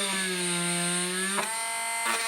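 A power drill whines at a steady high pitch while drilling into windshield glass, pausing briefly twice as the motor dips and restarts, close and loud.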